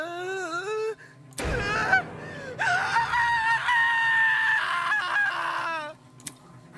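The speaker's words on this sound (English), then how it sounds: "Kai's scream rang loud and clear in my ears" A character's scream from the video game Project Eden's Garden rings out loud and close, a shrill wavering cry that rises and holds for several seconds before cutting off.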